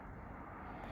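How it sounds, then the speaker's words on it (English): A Tippmann paintball marker regulator, TiPX or TPX, leaks air with a quiet, steady hiss that runs unbroken and faint for the whole second. "that leak, it's a pretty quiet leak"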